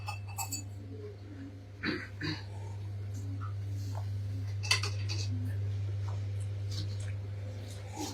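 Cups and dishes clink lightly and intermittently as juice is poured and served, with small scattered chinks over a steady low electrical hum in an indoor room.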